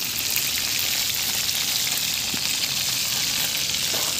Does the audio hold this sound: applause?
no